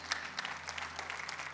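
A church congregation clapping together, a dense, steady patter of many hands heard from some distance at modest volume, no voices over it.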